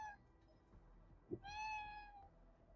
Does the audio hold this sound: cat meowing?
yes